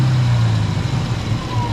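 A Dodge Challenger Hellcat Redeye muscle car engine idles in park with a deep, steady low rumble, loud and close, with a faint rising whine near the end.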